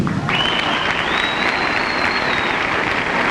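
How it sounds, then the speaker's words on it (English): A crowd applauds a boy's tumbling routine at the 1965 Illinois high school gymnastics state finals, dense steady clapping filling the hall, with a thin sustained whistle riding over it. "Lassie Sargent of Proviso East High School getting a fine hand from the crowd for his performance"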